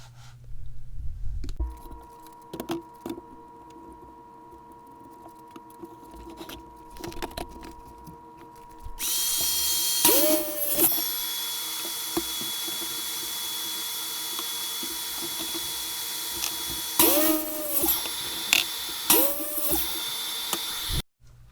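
Pipe pieces being cut for a homemade kayak rack, a steady grinding saw whine that stops and starts, with several short squealing bursts near the end and light clatter in between.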